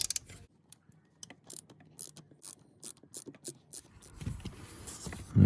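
Ratchet wrench clicks in short bursts while backing out the second bolt of an air oil separator on a Porsche Boxster 986.2/987, quiet and close, with pauses between runs of clicks.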